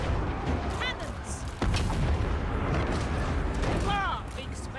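Cannons boom in a Total War: Warhammer 3 battle, a heavy low blast mid-clip amid dense rumbling battle noise and unit voice lines, with a player talking over it.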